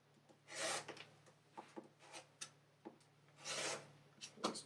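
Quiet rasping cuts of a rotary cutter or blade trimming fabric triangle tips along a mini quilting ruler, several short strokes close up with no talking.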